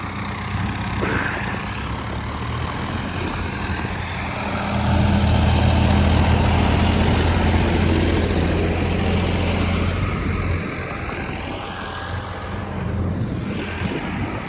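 Several tractor engines running in a field, a steady droning rumble that swells louder for a few seconds in the middle before easing back to a constant hum.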